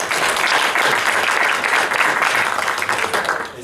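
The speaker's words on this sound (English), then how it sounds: "And applause, please." An audience at a seminar breaks into applause, a dense, loud wash of many hands clapping at once that holds steady for a few seconds before starting to taper off.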